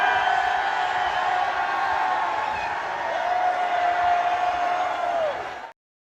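A large crowd roars in a continuous, dense wash of cheering that holds steady at high volume for several seconds, then cuts off abruptly.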